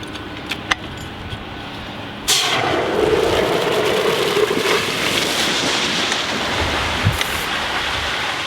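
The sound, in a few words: water supply turned on at fire hydrant, water rushing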